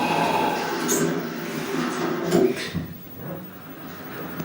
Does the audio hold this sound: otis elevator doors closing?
yes